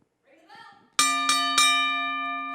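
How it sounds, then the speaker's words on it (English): A wrestling match bell at a championship wrestling event clangs three times in quick succession, loud and ringing out with a long metallic decay after a brief murmur of voices. "You can ring the bell."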